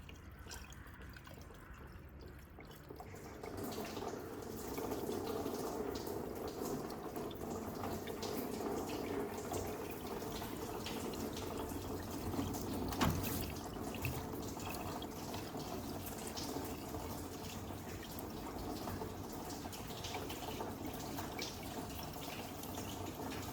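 Distilled water runs in a steady stream into the engine system of a BMW E60 during a flush, a continuous close pouring gurgle with no talking.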